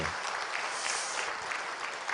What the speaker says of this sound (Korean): 우리 모두 다 함께 영광의 박수를 한번 올리겠습니다.